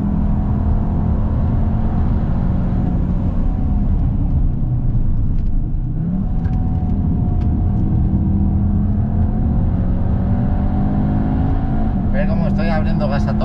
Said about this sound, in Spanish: Abriendo gas a tope y no entran los controles ni nada.